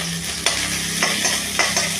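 Ginger dropped into hot mustard oil with cumin, bay leaf and dried chilli, a close, loud sizzle broken by several sharp stirring scrapes, no voices.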